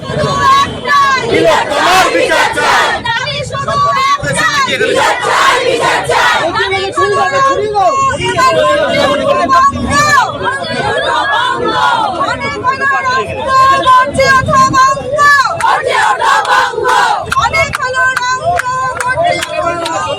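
A protest crowd blocking a road chants slogans, a dense, loud roar of many voices that continues without a break.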